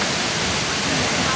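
Steady broadband rush of Naglahaw Falls, a waterfall that supplies water to a campsite below, filling the scene evenly as a continuous close roar with no clear breaks.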